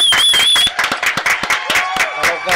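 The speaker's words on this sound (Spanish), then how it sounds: "Vamos a recibir con un fuerte aplauso a la Esencia" An audience greets a performer taking the stage with loud clapping and cheering, dense at first and then thinning into scattered claps and crowd noise.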